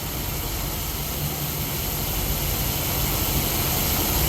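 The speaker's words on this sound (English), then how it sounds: "The motor is super quiet." A quiet car engine in a garage runs at a steady, even idle, a continuous low hum and whir that holds level throughout with no talking over it.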